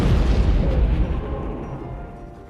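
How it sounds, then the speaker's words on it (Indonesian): A heavy grenade explosion in the film Dead Snow booms at once and then rolls off into a fading rumble with crackling debris, with no voices present. "mengambil granat dari kantong si zombie lalu diledakkan"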